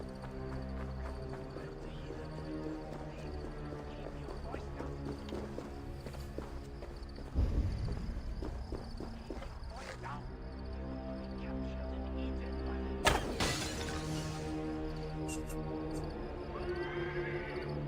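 A horse in Assassin's Creed Valhalla gallops with steady clip-clop hoofbeats, loud and continuous, broken by a sharp whinny partway through over a low game soundtrack.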